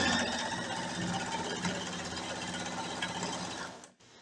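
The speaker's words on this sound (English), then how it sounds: "So I'm going to go ahead and finish sewing this one." Sewing machine running steadily as it stitches quilt pieces for a beginner keyhole quilt, a continuous close mechanical whir lasting about four seconds before stopping abruptly.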